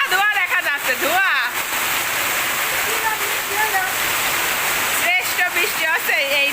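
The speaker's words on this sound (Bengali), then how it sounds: "দেখছি যে এত সুন্দর লাগতেছে বৃষ্টিটা, কি হারে পানি চলে আসছে ঘরে।" Heavy rain pours in a dense, continuous roar as water runs into a house, with a voice talking loudly over it throughout.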